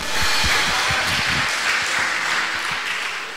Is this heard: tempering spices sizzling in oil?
no